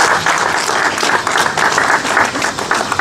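An audience at a reception hosted by the Côte d'Ivoire ambassador applauds, the clapping dense and loud with a pulsing, rhythmic swell.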